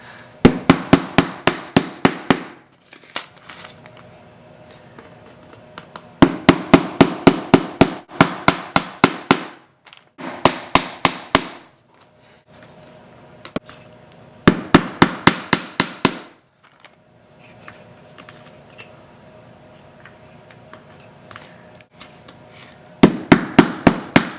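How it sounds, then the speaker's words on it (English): Bursts of rapid, sharp hammer blows, about eight to ten strikes each, hammering plugs into a board for seed starts, repeating in separate rounds with quiet pauses between. "Be a lot easier to hammer this in."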